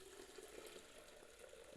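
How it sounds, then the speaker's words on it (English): Water runs steadily from a tap into a blender jar, a faint, even rushing stream. "I'm gonna fill that up with some water."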